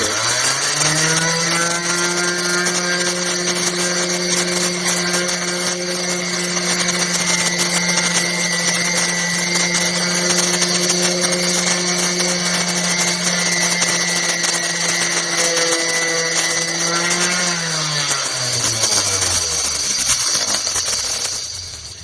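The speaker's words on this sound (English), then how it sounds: "if you just painted over that edge, even though it's watered here, you'd be seeing an edge on your tub" A power sander runs steadily on the edge of a bathtub being refinished, a loud continuous whine with a strong motor hum that holds for about seventeen seconds before winding down near the end.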